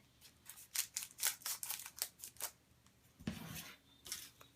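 Scissors snip along the sides of plastic packaging for a tri-fold keepsake impression kit, a run of crisp close cuts and crinkles followed by a louder rustle.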